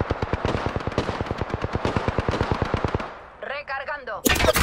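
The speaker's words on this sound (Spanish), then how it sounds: "Atención, me están disparando" Rapid automatic gunfire is aimed at the player in a video game, a dense run of loud evenly spaced shots that stops abruptly, followed by a brief electronic warble and a final burst.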